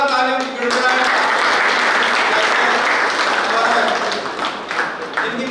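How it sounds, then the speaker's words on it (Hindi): Loud, sustained applause from the audience at a state-level kickboxing championship award ceremony in Shrimadhopur, a steady roar of many hands clapping throughout. "जोरदार तालियों की गड़गड़ाहट।"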